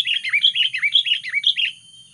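A sooty-headed bulbul (kutilang) chirps a quick run of bright, warbling notes close up, about two seconds of lively song with no voices over it.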